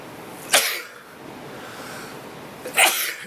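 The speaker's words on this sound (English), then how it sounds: "Excuse me, I'm going to sneeze." Two sharp, loud human sneezes, one early and one near the end, separated by a quiet gap with faint room tone and no talking.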